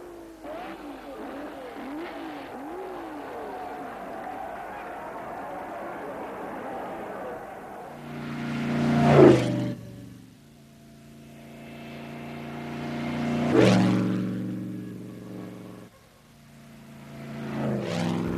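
An Alfa Romeo Monza racing car from the early 1930s, its engine note swelling and fading three times as it passes, after an opening stretch with a voice talking.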